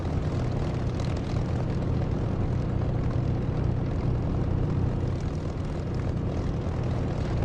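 A P-51 Mustang's piston engine drones steadily in flight in the DCS flight simulator game, a loud, even propeller roar that never changes and has no voices over it.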